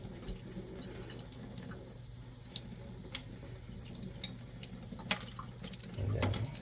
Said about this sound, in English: we turn on a little bit of the cold water running